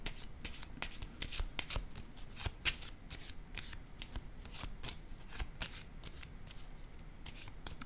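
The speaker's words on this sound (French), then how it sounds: "Je vais déposer une carte ici." Playing cards riffled and handled continuously at close range during a French tarot-style card reading, with crisp flicks and soft slaps of cards being laid down, no talk over it.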